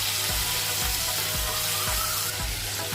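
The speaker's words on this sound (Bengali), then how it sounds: "এখন আমি চিংড়ি মাছগুলো ভেজে নেব।" Prawns frying in hot oil in a wok for lau chingri ghonto, a steady close sizzle with soft periodic scraping or stirring thumps in a loose rhythm.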